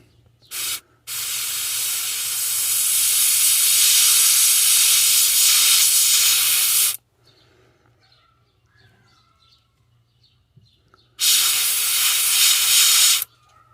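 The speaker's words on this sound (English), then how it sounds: "And then we're going to spray it." Spray paint hisses steadily onto a crankbait fishing lure being painted in a molting craw pattern, with a short burst, then one long continuous spray, a pause, and a final sustained burst, all loud and close.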